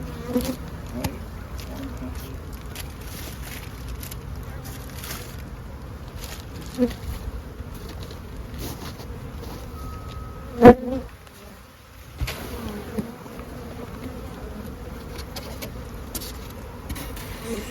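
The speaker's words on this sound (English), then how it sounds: "It's a good warm day, so these bees are able to get back in position before it gets cold." Honey bees buzz steadily around the front of a hive on a warm day, a dense continuous hum close by with one sharper knock partway through.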